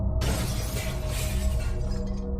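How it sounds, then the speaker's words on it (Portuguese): A car windshield shattering as a horror story sound effect: a sudden loud crash of breaking glass followed by a dense spray of tinkling shards that fades away over about two seconds, heard alone with no talking. "Gritei quando as garras da criatura rasgaram o para-brisa."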